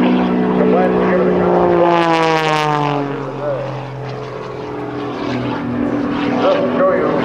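An Extra 300S aerobatic airplane with a 350-horsepower Lycoming engine and German MT propeller roars past at an air show, its loud propeller drone dropping in pitch as it passes, then fading slightly.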